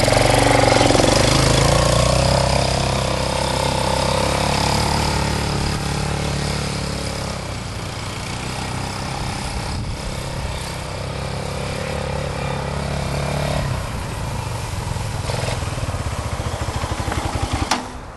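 An ATV engine runs steadily and loud throughout as the four-wheeler turns, a continuous mid-pitched drone with slight shifts in load and no talking.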